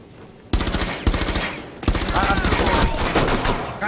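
Rainbow Six Siege firefight: loud rapid automatic gunfire in bursts, starting abruptly and continuing as dense rattling fire with echoing impacts, with players talking over it.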